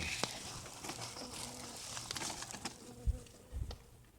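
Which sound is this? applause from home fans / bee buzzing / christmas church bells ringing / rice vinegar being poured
bee buzzing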